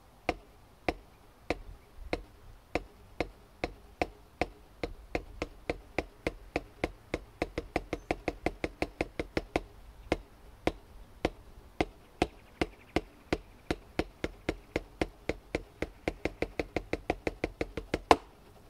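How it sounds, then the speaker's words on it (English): Drumsticks strike a practice pad in a drumming exercise that steps up from eighth notes through sixteenths to sextuplets, crisp close taps that start spaced and grow steadily denser and faster, alone with no talking. "Make sure you have your practice pad and your sticks"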